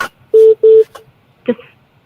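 A telephone keypad gives two loud, steady tones in quick succession as 1 is pressed to accept a call, with a short burst of voice after them.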